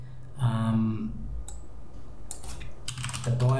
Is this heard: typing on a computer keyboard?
yes